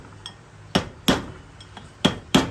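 A hammer taps a seal into the wheel hub of an LS3010 tractor, five sharp metallic knocks at uneven intervals, close and distinct in a quiet shop.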